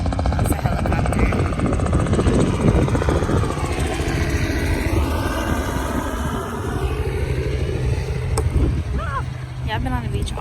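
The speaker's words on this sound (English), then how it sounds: "That's a helicopter." A helicopter's rotor chops loudly and steadily close by, its engine drone shifting as it passes, with voices faintly underneath.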